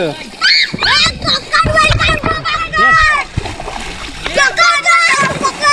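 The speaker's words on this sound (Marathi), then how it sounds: "ए पाणी नको उडू" Water splashes and sloshes repeatedly in a stream while excited children shout and talk over it, close by.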